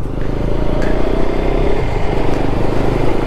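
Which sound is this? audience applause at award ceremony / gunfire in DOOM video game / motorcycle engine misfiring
motorcycle engine misfiring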